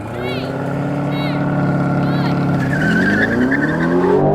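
An Aston Martin V12 drag car launches from a brake-boosted start, its engine droning loudly and steadily before rising in pitch as it pulls away, with faint tire noise and some talk underneath.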